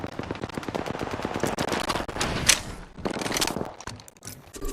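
Rapid automatic gunfire from an Apex Legends video game firefight, dense and loud bursts of shots with short pauses between volleys and no talking.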